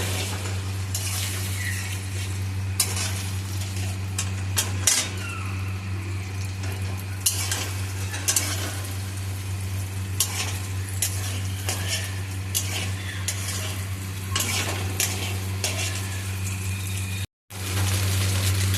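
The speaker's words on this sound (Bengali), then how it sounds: "তারপরে ডিমটাকে একটু নাড়াচাড়া করে ভেজে নিতে হবে।" Three beaten eggs with a pinch of salt sizzle and fry in a pan for egg chowmein, a steady hiss under a constant stove hum, with occasional scrapes and taps of a spatula stirring.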